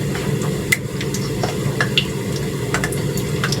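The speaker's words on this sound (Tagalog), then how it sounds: "Prito muna tayo." Steady sizzling of sliced squash frying in a pan, with occasional soft clinks and stirring scrapes over the continuous crackle.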